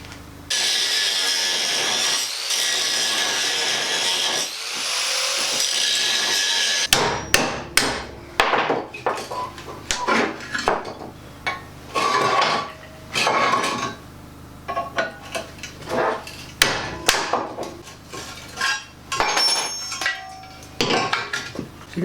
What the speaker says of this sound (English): The first thing I'm going to do is take off the steering damper bracket